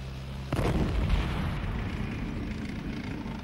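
A grenade explosion in the Vietnam War, one deep, heavy boom that hits suddenly and then rumbles away slowly over several seconds.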